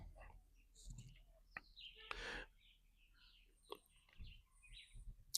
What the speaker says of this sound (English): Can you hear the birds in the background?